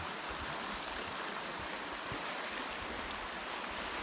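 Water of the lower Bugaboo river in the East Kootenays, British Columbia, flowing past a bend near a bridge, a steady, loud broadband rush that holds constant throughout with no voices.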